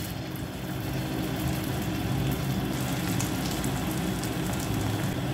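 Samosas dropped one by one into hot oil in a kadhai, giving a steady, dense sizzling hiss that holds evenly throughout, close and fairly loud, with no voices.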